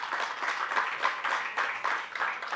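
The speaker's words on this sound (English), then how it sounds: "I think they deserve a round of applause" An audience at a water purification and sustainability initiative launch gives a round of applause for a secondary school steel orchestra, moderate continuous clapping that swells and dips slightly, somewhat distant.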